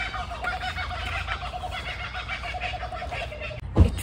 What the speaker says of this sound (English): That's some birds.